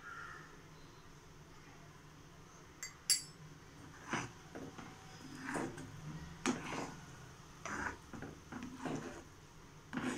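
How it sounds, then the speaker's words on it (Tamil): Semolina cooking for badam kesari is stirred while ghee is poured in little by little, heard as close scraping and clinking of a spoon against the pan in irregular strokes, fairly quiet, with no voices. "எடுத்து வச்சுருக்கிற நெய்யில் கொஞ்சம் கொஞ்சமாக ஊற்றி கிளறி விட போகிறேன்."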